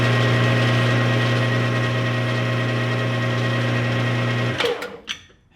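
A clamped yoke spins in a machine on a test run, giving a steady loud mechanical hum with a whining drone that runs unchanged for over four seconds, then spins down and stops with a few clicks.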